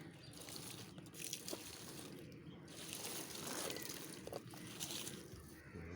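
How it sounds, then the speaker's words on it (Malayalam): Water is poured from close by onto a newly planted pepper seedling covered with leaves. It makes a soft, quiet trickling and sloshing that goes on for several seconds. "നമുക്ക് അല്പം വെള്ളം ഒഴിക്കാം, വെള്ളം ഒഴിക്കാം"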